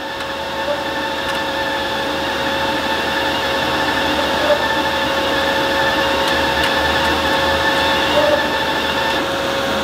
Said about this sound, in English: you're going to listen to the wire feed. You can hear the drive going